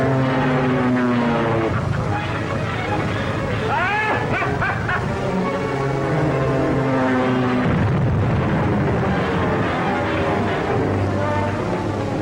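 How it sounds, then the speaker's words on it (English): A rocket plane sound effect from an old black-and-white film: a loud, steady engine drone with a whining tone that rises and wavers around the middle, running unbroken for about twelve seconds with no talk. "Rocket plane 8 miles off Devil's Point, heading for the Navy anchorage."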